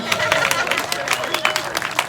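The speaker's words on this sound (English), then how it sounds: "Go ahead, give me a clap." A crowd at a gun rights rally in New Jersey claps and cheers in a short, lively burst, scattered hand claps over a murmur of voices.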